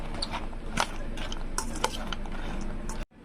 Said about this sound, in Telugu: ఈ పాపడాస్లో షుగర్ సిరప్ వేసుకొని కలుపుకుందాం. ఇలా మిక్స్ చేసేసుకుందాం.